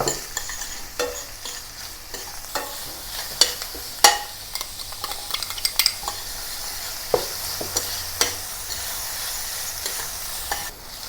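Onion, garlic and ginger sauté in a pan with a steady, moderate sizzle, punctuated by sharp clicks and scrapes of a utensil stirring at irregular intervals.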